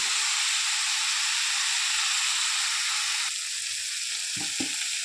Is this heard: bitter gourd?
yes